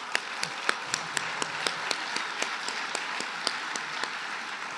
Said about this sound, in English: I think all of our honorees this evening deserve another round of applause.